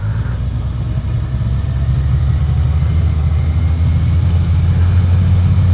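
A Kawasaki Versys 1100 SE motorcycle engine braking in first gear on a road, giving a continuous low rumble that stays steady and fairly loud for the whole stretch, with no talking.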